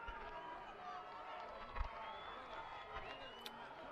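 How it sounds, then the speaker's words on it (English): Crowd noise at a 2020 Central Desert Australian football preliminary final between Western Arrente and Papunya, a steady murmuring roar of spectators with brief swells of cheering throughout. "Listen to the crowd."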